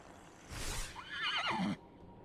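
A horse in the video game Ashes of Creation gives a fairly loud whinny that rises and then falls, over a steady background hum.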